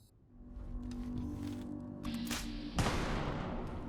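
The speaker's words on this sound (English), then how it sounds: "the explosive bow with poison arrows works very similarly to the Burning Love. The explosions seem to be noticeably louder" Explosive bow arrows detonating in the Fallout 76 video game: a couple of loud, broadband blasts land over a steady rumbling game backdrop, the heaviest burst near the end and then sustained.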